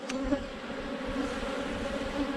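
Honeybees drone continuously around an opened hive during an inspection, a close, steady, moderately quiet buzz with slight wavering pitch and no talking.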